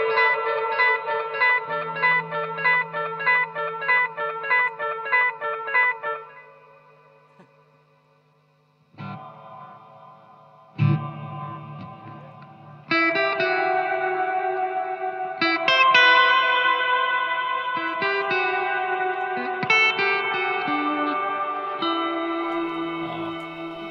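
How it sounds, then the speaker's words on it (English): Guitar played through a delay effect as part of a budget amp-and-pedal rig, clean picked notes ringing with repeating echoes, a pause, then fuller strummed chords trailing into delay tails, loud and close with no talking. "We can throw some delay in there as well."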